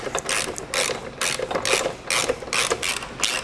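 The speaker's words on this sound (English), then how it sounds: "You can get to these top 4 with a ratchet. Just snug them all up before you torque on them." A hand ratchet clicks rapidly in close, loud bursts as it snugs up 18mm bolts on a Can-Am rear bumper, several quick runs of pawl clatter with brief pauses between them.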